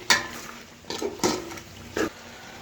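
Whole spices including bay leaf, cloves, cardamom and star anise being stirred in a pot, a few short scraping and clinking strokes of a spoon against metal, close and brief, over a faint background sizzle.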